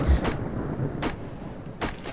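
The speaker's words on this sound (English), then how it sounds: "here comes the rain again" Steady rain hiss with deep thunder rumbles underneath, punctuated by a few sharp broadband bursts spaced about a second apart, in the video game Subsistence.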